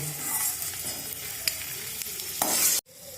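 Peanuts roasting in oil in a pan for poha, a close, loud sizzle with scraping stirs and small pops. The sound ends abruptly near the finish, leaving a brief quieter tail.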